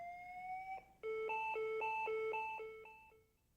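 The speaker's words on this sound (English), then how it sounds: "A message and alarm tone sound." A defibrillator sounds its alarm tone: a steady beep, a brief break, then a run of five or six loud, evenly spaced beeps that fade out at the end.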